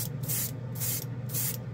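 An airbrush sprays chrome ink taken from a marker in short, pulsing hisses, about four bursts in quick succession, close and steady.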